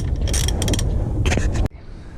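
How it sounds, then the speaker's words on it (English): A ratchet tightening wheel hub bolts on a Jeep ZJ during a hub replacement, rapid close clicking bursts of the pawl in quick strokes before stopping abruptly. "Tighten your bolts up."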